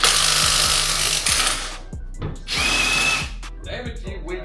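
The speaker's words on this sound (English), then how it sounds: "Damn it, you weak ass impact." A Ryobi impact wrench struggles to turn with too little torque, giving bursts of rapid hammering clatter that pause and restart, loud and close, with a brief voice between bursts.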